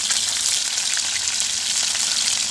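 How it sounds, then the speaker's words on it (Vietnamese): Fish fries in a pan with oil, making a constant, crackling sizzle that stays close and fairly loud throughout, with no talking over it. "Cả nhà bây giờ mình sẽ chiên cá này cả nhà nha."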